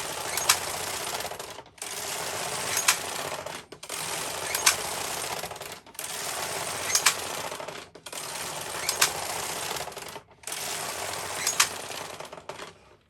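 A Bond Elite knitting machine with ribber, carriage knitting 1x1 ribbing, runs in six steady back-and-forth passes of busy mechanical clattering and rasping, each about two seconds long with short pauses between. No one speaks.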